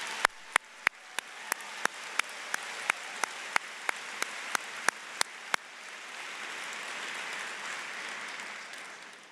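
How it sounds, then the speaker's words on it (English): Steady applause from a large commencement audience honoring graduates at the NC State College of Natural Resources, with sharp, evenly spaced claps or air-horn-like blasts over the first half before the broad crowd clapping carries on alone. "Let's have a round of applause for these graduates."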